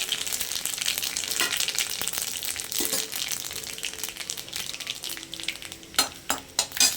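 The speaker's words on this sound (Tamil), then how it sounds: "ஒரு சின்ன குழிக்கரண்டி எண்ணெய் ஊற்றிட்டு கடுகு, உளுந்து, ஜீரகம் எல்லாம் போட்டு தாளிச்சிடலாம்." Mustard seeds, urad dal and cumin tempering in hot oil for Chettinad vandakai pachadi, a steady close sizzle with crackling pops, then a few louder spatters near the end, and no talk.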